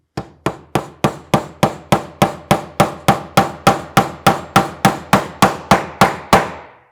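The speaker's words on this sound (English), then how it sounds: "So let's tack in that second nail." A hammer drives a nail into the back panel of a small wooden DIY cajon with about nineteen sharp, evenly spaced strikes. Each strike rings out loud and close in a steady, quick rhythm, with no talking.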